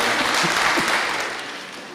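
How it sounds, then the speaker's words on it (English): A seated audience at a university Sacco meeting claps for themselves in dense, sustained applause that fills the room and slowly tapers off toward the end. "you can clap for yourself and sit down."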